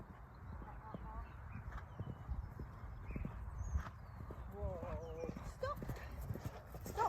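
Hooves of a ridden horse clip-clop along a track outdoors in an uneven, quickening rhythm, with a soft whinny partway through and a rider speaking over them.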